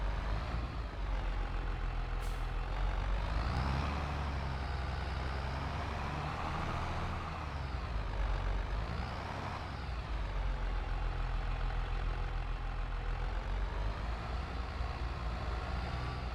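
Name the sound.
tractor engine driving, from the video game Court Farm Country Park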